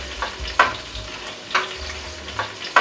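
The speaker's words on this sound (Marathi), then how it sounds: "तेजपत्ता घातल्याच्या नंतर ठेचलेला थोडासा लसूण घालूया। थोडासा आपण परतून घेऊया।" Bay leaf and crushed garlic sauté in a pan for Nagpuri Saoji mutton curry: a low steady sizzle broken about once a second by sharp clinks and scrapes of a stirring spoon.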